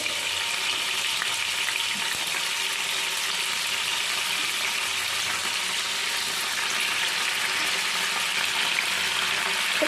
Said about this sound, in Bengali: পনিরগুলো ভেজে নিই আগে